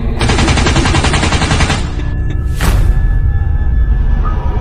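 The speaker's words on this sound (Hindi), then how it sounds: "ये सुनते ही जंडू चाचा सरकटा और स्त्री की तरफ गोलियां चलाने लगते हैं।" Loud, rapid automatic gunfire from a horror comedy rattles continuously for about two seconds, followed by a whooshing burst and lingering rumble.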